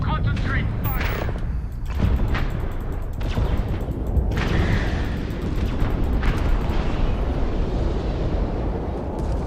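Explosions and heavy weapon fire rumble through a space battle in Starfield, with a ship blowing apart amid sustained booming noise; a voice talks over the din.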